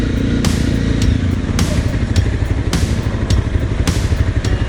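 A motorcycle engine idles and putters close by on a Bangkok street at night, a steady, rumbling rhythm with periodic sharp clicks, while traffic noise and occasional voices sit in the background.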